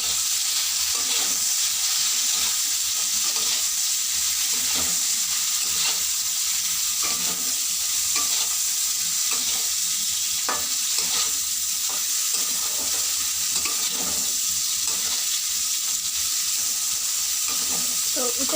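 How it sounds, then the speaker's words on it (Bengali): Bitter gourd pieces fry in hot oil in a pan, giving a dense, continuous sizzle with irregular scraping stirs throughout, close and fairly loud with no talking. "তো উচ্ছেটাকে ভালোভাবে ভাজতে হবে,"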